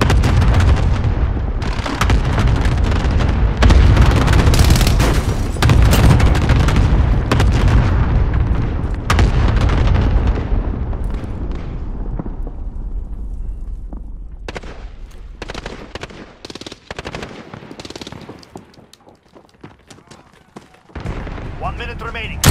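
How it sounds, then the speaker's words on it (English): Cluster strike explosions in Call of Duty: a loud barrage of heavy booms and blasts that gradually thins into scattered, fainter bursts and rumbles, with game voices underneath. "Cluster strike away."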